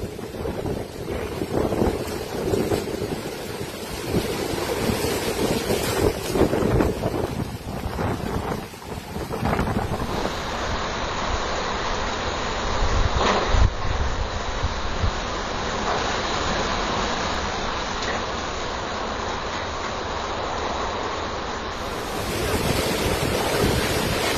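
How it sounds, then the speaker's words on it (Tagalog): Storm wind roars across the town of Agno, with waves surging beneath it. The rush is loud and continuous, with buffeting gusts and no voices. "Sa pagkagat ng dilim, tila ibinuhos na ng bagyo ang buong lakas nito sa bayan ng Agno."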